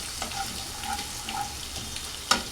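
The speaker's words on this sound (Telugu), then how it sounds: "చూడండి పోపు అయితే వేగిపోయింది చక్కగా" Mustard seeds and cumin tempering in a hot kadai for mango pickle, with a continuous close sizzle, light stirring and a sharp pop near the end.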